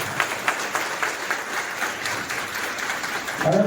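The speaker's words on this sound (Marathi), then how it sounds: "सर्वांनी टाळ्या वाजवा असं मी विनंती करतो" An audience at a community distribution event for construction workers claps steadily, a dense patter of many hands swelling slightly toward the end, with faint voices underneath.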